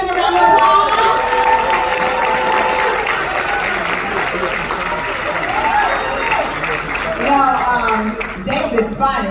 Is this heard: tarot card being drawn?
no